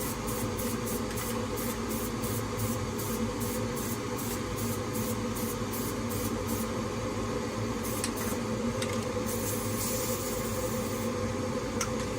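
A rapid series of short, sharp hissing bursts of paint from a spray nozzle, followed by a few longer sprays over a steady low hum.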